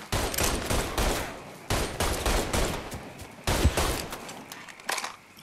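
Heavy enemy gunfire in Mafia 3, dense crackling volleys of rapid shots in repeated bursts, loud and close, with no talking.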